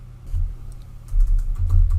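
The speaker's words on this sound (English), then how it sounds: "so you just start typing" Fingers tap out a steady patter on a computer keyboard, soft clicks coming in quick irregular bursts over a low constant hum, near and moderately loud with no talking.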